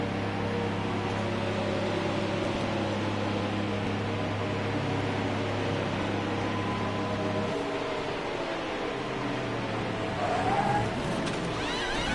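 Race car engine noise drones steadily through a pit stop in NASCAR Heat 4, with a tonal hum that shifts partway through and a brief squeal near the end, no talking.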